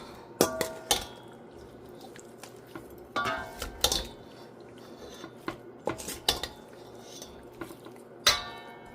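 A utensil clinks and scrapes against a bowl while oxtail is mixed with seasonings, in scattered bright knocks and short rattling bursts over quiet background.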